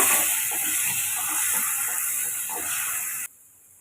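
Tomato and onion masala sizzles steadily in a pan for mutton liver, a loud constant hiss with faint crackles that cuts off abruptly near the end.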